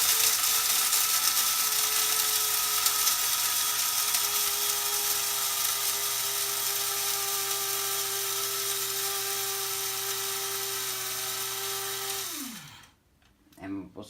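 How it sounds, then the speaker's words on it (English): An electric coffee grinder grinds coffee beans with a loud, steady, high motor whine and gritty buzz that lasts about twelve seconds, then spins down abruptly and falls quiet. "So I've put our coffee in our grinder."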